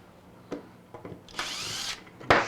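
A power drill removes screws from a guitar-building form, whirring in short bursts, with a longer whine in the middle and a final sharp burst, amid clicks and handling noise, fairly quiet.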